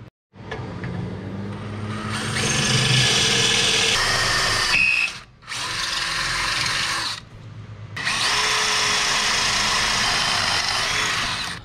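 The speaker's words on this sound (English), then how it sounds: "So let's get the holes drilled, we'll get the bolts in" A power drill bores bolt holes for mounting a solar panel on a Jeep Cherokee XJ, whining loudly in three sustained bursts, the middle one shortest, separated by brief pauses.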